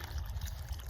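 Water poured from about a gallon into the planting hole around a newly set bare-root fig tree, a steady low trickling gurgle lasting the whole moment, close and fairly quiet.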